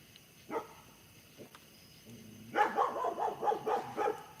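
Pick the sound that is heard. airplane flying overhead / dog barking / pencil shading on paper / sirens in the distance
dog barking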